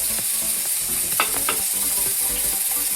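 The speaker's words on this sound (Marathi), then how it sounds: "तेल गरम झालेलं आहे. कांदे टाकून घेते मी," Onions dropped into hot oil in a cooking pot for mutton biryani give a steady, close sizzle throughout, with a few brief clinks and scrapes from stirring near the middle.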